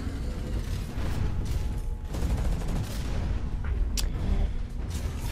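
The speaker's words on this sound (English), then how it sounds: "Alright, let's try this submachine gun out." A submachine gun mounted on a mech fires in the video game Hawken, producing a dense, continuous rattle of rapid shots mixed with heavy mechanical whirring and clanks throughout.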